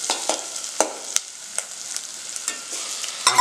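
Ingredients with tomatoes sautéing in a pan for manathakkali soup, a steady soft sizzle broken by quick scraping stirs of a spoon, close and moderately loud, with no voices.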